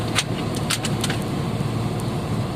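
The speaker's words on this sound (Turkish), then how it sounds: "Kamyon otomatik Mercedes" An automatic Mercedes truck drives in the rain, a steady low engine drone from inside the cab with scattered light clicks and rattles over it.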